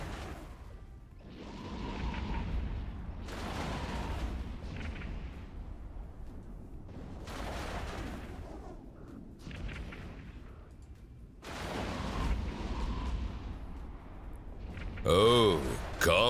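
Missile launches and a ship explosion in EVE Online come as repeated booming bursts and whooshes, loud and close, with a person talking over the game sounds throughout.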